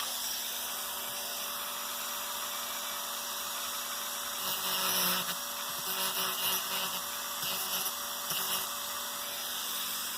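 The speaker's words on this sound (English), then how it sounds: "I'm going to take my cutoff wheel and I'm going to put a gap in the PC board" A small high-speed cutoff wheel grinds a gap into a PC board on a model locomotive, a steady close whining buzz that holds for about ten seconds with slight swells as it bites.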